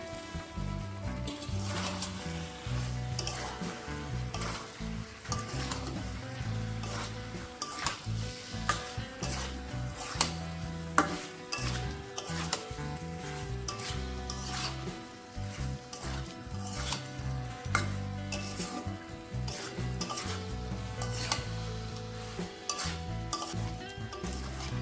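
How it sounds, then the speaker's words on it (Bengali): Fried potatoes and young jackfruit tipped into a hot oily pan for a Bengali jackfruit curry give a steady, close sizzle, broken by spatula scrapes and clinks as they are stirred. "ভেজে রাখা এঁচড়গুলোকেও আমি এখন দিয়ে দিচ্ছি।"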